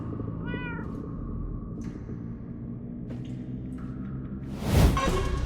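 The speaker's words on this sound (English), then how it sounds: "That almost sounds like... Cats?" Cats meow in the Minecraft Story Mode video game, a few short, distinct mews spaced apart over a soft background hum, followed by a brief whoosh near the end.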